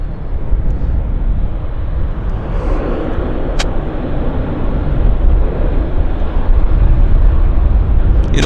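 A Beechcraft 1900D turboprop taxiing at Vancouver airport, a steady broad engine rumble and whine at middle distance that swells slightly toward the end, with faint wind across the microphone.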